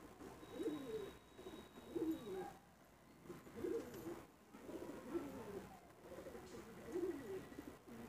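Deep-eyed pigeons, Rohan vika and kalo dana, coo repeatedly in a steady rhythm of low rolling calls, fairly close and moderately loud, with faint background noise between bursts.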